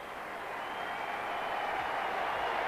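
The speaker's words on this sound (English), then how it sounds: "a warm ovation for him from this MCG crowd" Warm applause from a large crowd at the MCG cricket ground during a 1985 India vs Pakistan one-day final, a steady continuous wash of clapping that swells slightly and holds throughout.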